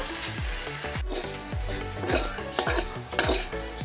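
Mankochu (giant taro) fries in a pan, a soft steady sizzle under repeated scraping stirs and metallic knocks of a utensil against the pan, close-up, with no voices.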